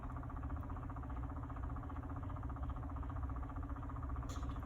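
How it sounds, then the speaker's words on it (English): A steady low mechanical hum from a small motorized cup turner spinning an epoxy-coated wineglass runs continuously at an even level, with a faint brief tick near the end. "And the sound you hear is the cup turner."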